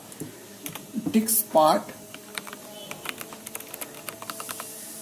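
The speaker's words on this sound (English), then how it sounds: "here you need to type CMD" Light, irregular computer keyboard typing of a command-prompt command: scattered key clicks, fairly close, with a brief murmur of a voice early on.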